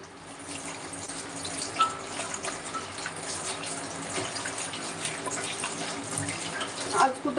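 Tap water flows again after the household supply returns, a steady, moderately faint rush and splash of running water that continues throughout with small gurgles.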